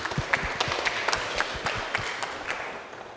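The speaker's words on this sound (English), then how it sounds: "Thanks for the applause" Scattered audience applause at a European Parking Association panel session, a few dozen hands clapping irregularly at moderate level for about three seconds with no talk over it.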